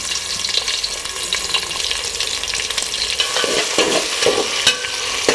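Onion frying in hot oil gives a loud, close sizzle with stirring scrapes and crackling pops that grow busier toward the end, and no voices.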